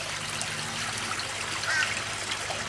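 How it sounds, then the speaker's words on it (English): Water trickling downhill between garden pond tanks, a steady soft babbling stream with small splashes and a faint low pump hum underneath. "The water flows downhill from here, then across to that bottom tank down there"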